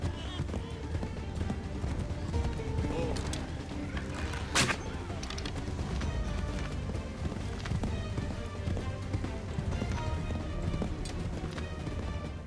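Horse hooves clip-clopping at a run through trees and rocks in Assassin's Creed III, rapid irregular thuds and clatters continuing throughout with game ambience, a voice talking over parts of it.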